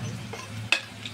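Cinnamon, cardamom, cloves and bay leaf hit hot oil for chicken korma, giving a faint, quiet sizzle with a single sharp clink of a utensil partway through.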